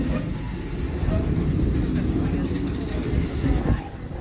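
Serengeti Express train at Busch Gardens Tampa rolling along, a continuous low rumble and clatter of railcars, close and steady, with a muffled announcer voice beneath the noise.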